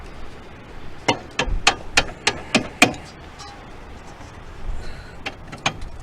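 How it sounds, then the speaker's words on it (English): Hammer blows strike a stuck rear spindle on a 1990-1993 Honda Accord CB7, about seven sharp metallic hits in quick succession, then a pause and two more strikes, close and loud. "You see me hammering it."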